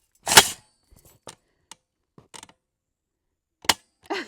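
Two loud, sharp Barrett rifle shots ring out about three seconds apart, with a few faint clicks and knocks in between and no voices.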